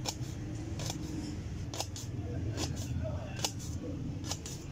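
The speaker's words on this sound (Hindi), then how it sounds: "अब लहसुन काट लेते हैं।" Garlic chopped with a knife while cooking street-style tarka daal: sharp, close knocks come in small, uneven clusters over a steady background rumble.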